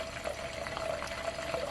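Butter being clarified into ghee in a pan on the stove, a dense, steady fizzing and light bubbling at close range with no voices over it.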